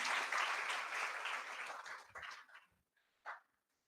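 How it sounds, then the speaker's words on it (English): Audience clapping at a first-year engineering college induction and orientation program, a loud burst of applause that thins out into scattered claps and fades, with one last short clap near the end. "Again, a great round of applause for Priyanka ma'am"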